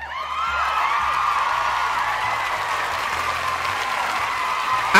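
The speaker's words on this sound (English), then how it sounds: "Everybody, give a nice round of applause for Jas0n Finch!" A steady round of clapping from a small crowd, continuous and fairly dense throughout, with a faint undertone of background noise.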